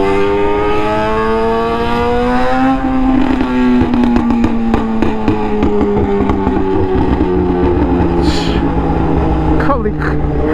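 A tuned Suzuki GSX-R1000 motorcycle rides through city streets at low speed. Its engine drones loud and close with a shifting pitch that falls and rises as gears change, and someone talks over it throughout.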